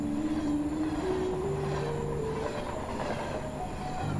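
A train rolls along railway tracks, a steady rumble with drawn-out wheel squeals and tones shifting in pitch, loud and continuous throughout with no voices.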